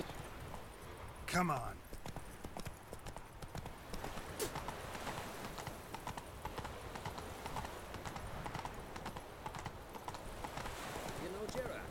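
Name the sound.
horses galloping, from video game The Witcher 3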